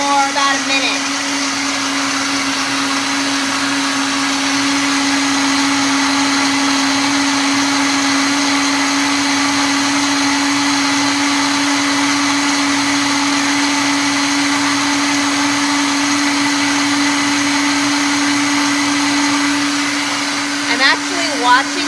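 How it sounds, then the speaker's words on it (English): A Vitamix blender runs at full speed blending a Shakeology shake, a loud, steady motor drone with a constant whirring hum lasting over twenty seconds, close by and uninterrupted. "Lid goes on the blender, and then we blend. So I'm using a Vitamix."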